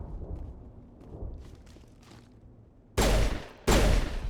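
Gunfire in the video game Mass Effect: after a stretch of quiet background rumble and faint movement, two loud sharp bursts of shots erupt close together near the end.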